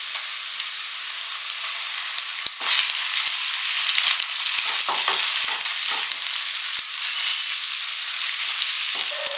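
Ginger garlic paste frying with browned onions in a pan for pepper masala chicken, a steady close sizzle with occasional stirring scrapes and clatters throughout.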